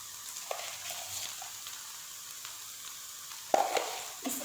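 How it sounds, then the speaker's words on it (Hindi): Chicken karahi fries in a pan with salt, a soft continuous sizzle punctuated by a few sharp clinks and stirring scrapes, the loudest knock near the end, with no voices. "अच्छे से आप लोग इसको फ्राई कर लीजिएगा"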